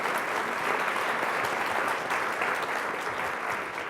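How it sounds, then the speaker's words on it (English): Sustained audience applause at a photography event conversation, an even wash of many hands clapping at moderate distance, steady from start to finish with no talk. "So a big round of applause for their support and donations."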